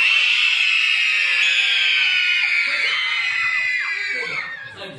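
Young audience at a live children's show, girls only, screaming together on cue in a loud sustained high-pitched burst that fades out after about four seconds.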